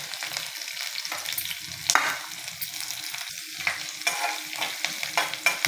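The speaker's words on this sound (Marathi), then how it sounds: "आपला डाळी थोडा लालसर कलर येतो, थोडंसं भाजायचे आहेत आपल्याला." Dal lentils dry-roasting in a pan with curry leaves and chillies, no oil, a light crackling sizzle broken by repeated scraping stirs of a spoon across the pan, close and clear with no talking.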